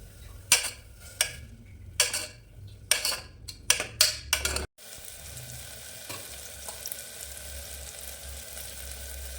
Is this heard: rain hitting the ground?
no